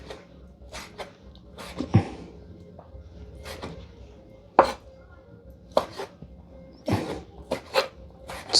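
A knife slicing boiled, cooked food on a board, irregular crisp chops that come singly and in quick clusters, close and fairly loud, with no talk.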